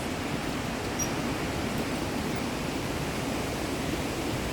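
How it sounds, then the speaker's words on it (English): Steady, dense rush of water from waterfalls in the Khasi Hills near Cherrapunjee, Meghalaya, a constant broadband roar with no breaks and no voices. "here lots of waterfalls around the place"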